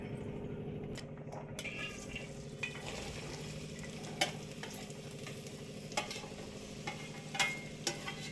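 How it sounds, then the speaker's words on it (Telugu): Mango and ginger frying in a pan for sweet pickle, a steady soft sizzle with occasional spoon taps and scrapes, close and moderately quiet, no voices. "పచ్చి వాసన పోయేలాగా మనం కొంచెం ఫ్రై చేసుకోవాలి. ఇది వేపుకోవాలి."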